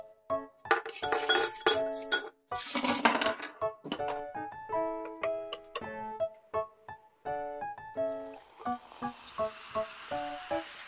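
A drink is prepared with a glass and metal utensils, giving a quiet, close series of bright clinks, taps and rattles in irregular bursts, ending in a soft hiss.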